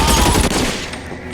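Gunfire in the video game L.A. Noire: a dense burst of rapid shots, loud and close, fading slightly by the end.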